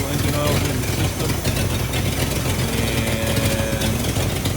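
A 1978 Ford F250 diesel truck engine runs at idle nearby, a continuous loud, rough chugging rumble, with a voice talking over the engine noise.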